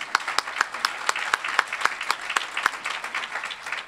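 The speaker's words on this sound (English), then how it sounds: "Let's give them another round of applause." A small audience at a Women for Kansas forum on fair and impartial courts claps steadily, with distinct individual hand claps in an uneven rhythm, moderately close and fairly light.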